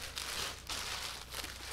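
Plastic vinyl sheet being handled while preparing for at-home hair dyeing, producing soft, close crinkling and rustling in irregular bursts, quiet and alone.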